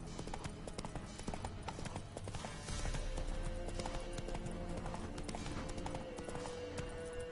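Horse hooves gallop in the video game Witcher 3 Wild Hunt, a steady, rhythmic clip-clop that is close and continuous over a dense game soundscape.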